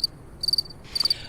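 Three short bursts of shrill cricket chirps, each a quick pulsing trill separated by brief silence, clear and close against a quiet background.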